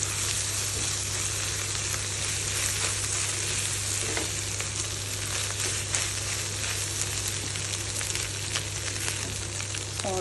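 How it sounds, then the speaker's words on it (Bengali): Eggs sizzling steadily in a hot pan while being scrambled bhurji-style, a continuous close frying hiss with occasional stirring scrapes and no voices. "আমি দিয়ে দিলাম ডিম, ভালোভাবে এটাও ভুজির মতো স্ক্র্যাম্বল করে নেব"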